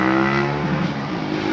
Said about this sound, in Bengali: প্রচুর পরিমাণ গাড়ি যাইতেছে